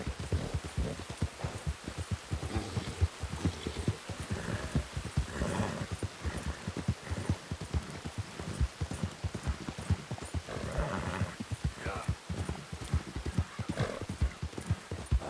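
A horse gallops in Red Dead Redemption 2, with fast, rhythmic hoofbeats drumming continuously and steadily close by, and no voices over them.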